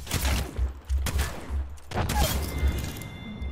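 Rapid bursts of video game gunfire from Apex Legends, several sharp volleys with short pauses, loud and close, layered over a dense background of game effects.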